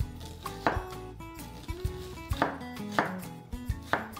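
An onion being chopped with a knife on a board, about a dozen crisp, close knocks in an uneven rhythm, some quick pairs, with quiet gaps between the cuts.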